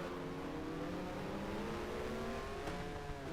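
Engine of a Lotus Formula 1 car from the 1973 season in the racing game F1 Challenge, a steady, fairly quiet high-pitched drone with rising harmonic tones as the revs climb, heard from close behind the gearbox.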